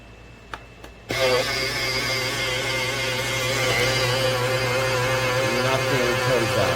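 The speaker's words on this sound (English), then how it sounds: "this is the Burr grinder, and when you turn it on" A Wancle electric burr coffee grinder stays silent for about a second with a couple of small clicks, then starts with an abrupt loud whine and keeps running at a steady, even pitch, with no talking.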